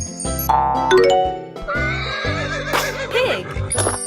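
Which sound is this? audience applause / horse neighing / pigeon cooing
horse neighing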